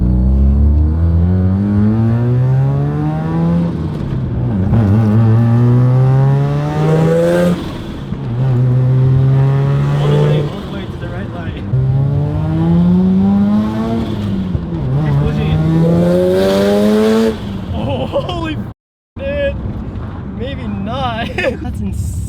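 A Mazda RX-7's engine revs loud and close, climbing in pitch again and again through repeated acceleration pulls with brief drops between them, before a sudden cut near the end.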